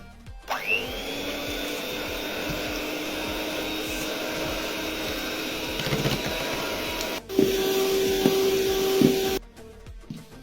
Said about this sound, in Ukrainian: Все гарненько збиваємо міксером.